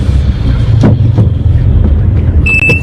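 A car drives and turns, heard as a loud, close, rumbling engine with rough low noise and a few brief knocks, ending with a thin high tone.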